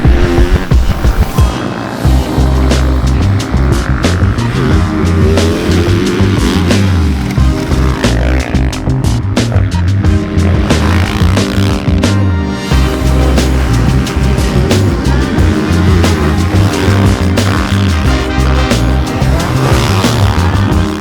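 A 2024 Yamaha YZ450F motocross bike being ridden, its engine revving loud and close with steady harmonic drone and repeated throttle swells, running continuously with no voices.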